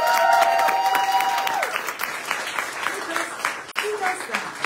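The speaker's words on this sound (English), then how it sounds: "Can you give Ren a big round of applause?" Applause from an open mic audience at a poetry reading swells loud and steady for several seconds, a dense wash of clapping that tapers slightly toward the end, with a voice talking over it near the start.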